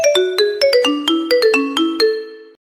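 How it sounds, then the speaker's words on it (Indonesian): A telephone ringtone plays for an incoming call, a loud, bright electronic melody of quick repeated tones in a steady pattern, heard alone with no voices. "Nyonya C dihubungi oleh salah satu anggota tim tracer Puskesmas Kambaniru bernama Nestuti melalui telepon"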